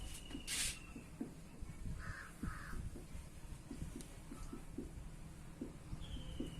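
A crow caws repeatedly outdoors, a series of short harsh calls at an uneven pace, moderately distant and fairly faint over a steady background hum.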